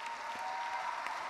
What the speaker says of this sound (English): can we just give a rousing round of applause for this brilliant